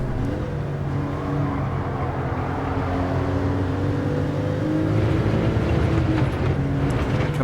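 Porsche engine in a VR racing game holding a steady droning note as it brakes and drops into fourth gear, a continuous loud tone with shifting pitch and no voices.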